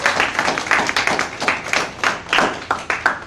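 A small audience claps for a poet at an outdoor poetry reading, a brief burst of close, distinct hand claps with a loose uneven rhythm and little voice.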